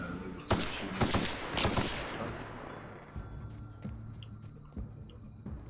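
Rapid gunfire in The Outer Worlds video game, a quick cluster of sharp shots up front that gives way to sparser, fainter pops and clicks over a low ambient bed.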